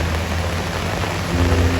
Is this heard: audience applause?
no